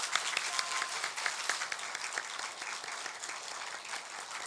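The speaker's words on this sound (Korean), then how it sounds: "인사할 때 우리 기쁨으로 환영으로 박수하시면서 인사 받겠습니다" A church congregation at a Sunday service applauds to welcome the pastor's family, dense sustained clapping from many hands filling the room for several seconds with no voices over it.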